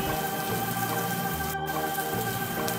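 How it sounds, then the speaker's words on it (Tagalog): Rain falls steadily and softly in an even patter that holds throughout, with one brief sharp knock partway through and no voices. "Paano kung di tumigil ang ulan hanggang mamayang gabi?"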